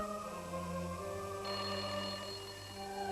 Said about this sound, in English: All the next day, the 18th of April, Case's phone rang and rang